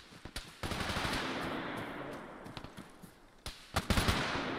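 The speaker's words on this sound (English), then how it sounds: "Shots." Gunfire in a military video game: a burst of sharp shots, then a sustained rattle of rapid fire, then more scattered close shots toward the end.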